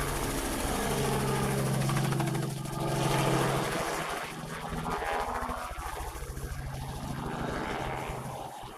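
A helicopter passes over a house with a steady, loud rotor and engine roar that holds throughout and swells slightly midway, continuous and close overhead.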